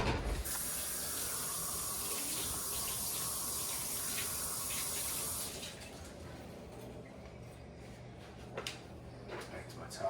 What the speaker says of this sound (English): I'm gonna wash my hands off real quick.